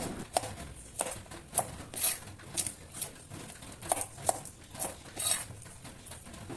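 Chinese kale, peeled down to its tender part, is chopped into pieces with a knife on a board, producing a quick, uneven run of soft chops and taps throughout, fairly quiet and close.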